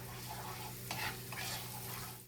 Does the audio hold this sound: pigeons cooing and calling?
no